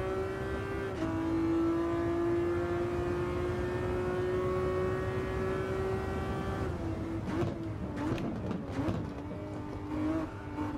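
Race car engine held at full throttle in Gran Turismo 7, a sustained loud steady drone with stable pitch, then a gear change and rougher revving bursts near the end, no talk.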